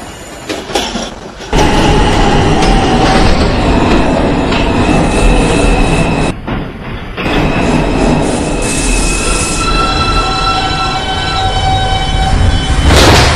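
An R142 subway train on the IRT 5 line rumbles along the track toward New Lots Avenue, a loud steady roar with rattling car noise and high wheel squeal, briefly dipping quieter before surging again.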